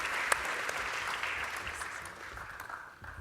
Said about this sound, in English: And a round of applause